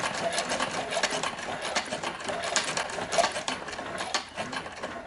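A Cowboy CB4500 heavy-duty sewing machine stitches thick, very hard leather with 277 thread, its steady mechanical chatter running continuously and close up with no talking.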